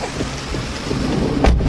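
Heavy rain in a village pours down as a dense, steady wash of noise, with a sharper burst near the end that may be thunder or a close impact.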